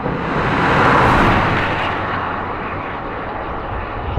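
A Toyota Yaris GR three-cylinder engine revs loud and close, a dense roar that swells early and then holds at a slightly lower, steady level.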